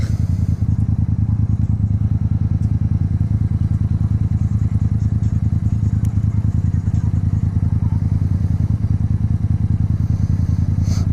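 A motorcycle engine runs close by with a steady, loud, low rumble that holds an even pitch for the whole stretch, without clear rev climbs.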